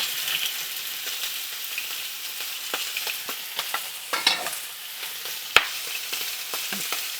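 Pork strips hit a smoking-hot oiled pan and fry with a steady broadband sizzle, broken by scattered stirring scrapes and sharp spatula clacks, one loud knock near the end, close and with no talking.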